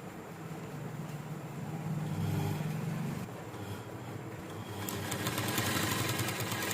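Domestic sewing machine running a straight seam along kurti fabric with a half-inch margin, a steady mechanical whir that stops briefly midway and then starts again with a faster, rattling drive, close and fairly quiet, with no voices.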